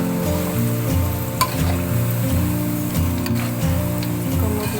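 Potato fries crackle and sizzle in hot oil during a second frying meant to crisp them. The steady hiss sits under loud, rhythmic background music throughout.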